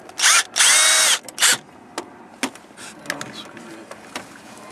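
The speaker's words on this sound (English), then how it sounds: "You're going to tighten this up." A power drill tightens the 5/16 clamp of a Z Lok hood lock on an older vehicle: three loud, short whirring bursts up close, followed by quieter clicks and light handling noises.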